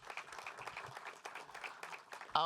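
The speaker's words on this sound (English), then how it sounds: "I just want to give you a round of applause" Applause from an audience at a Denver civic event hosted by the Biennial of the Americas, faint and distant clapping lasting a couple of seconds before a louder sound cuts in at the end.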